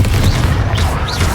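Fiery Confringo blast spell cast in the Hogwarts Legacy video game, a dense booming burst with roaring low rumble and crackling swoosh sweeps, continuous and loud across the moment.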